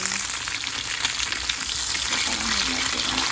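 Dalagang bukid fish, already flipped and crisping, fries in a pan with a steady, close, dense sizzle and crackle that holds at an even level throughout, with no voices.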